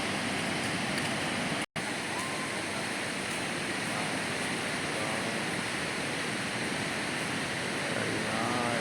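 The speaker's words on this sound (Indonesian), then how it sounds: "Ombak lagi besar." Ocean surf at Kuta beach, Bali, with big waves, makes a loud, continuous wash of breaking water, broken only by a brief dropout near the start.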